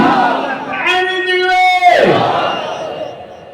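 A large crowd at a religious sermon roars the takbir chant in unison, a loud sustained sung shout lasting about a second before breaking into scattered voices and fading.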